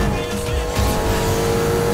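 Porsche 718 Cayman GTS sliding through a drift in Need for Speed Heat, a steady loud engine roar with tire squeal running throughout, close and continuous.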